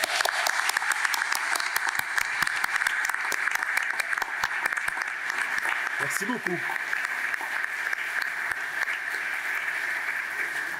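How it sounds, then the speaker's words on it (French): An audience at a culture awards ceremony applauds steadily throughout while a voice speaks briefly in French over the clapping. "Une bonne main d'applaudissements, s'il vous plaît."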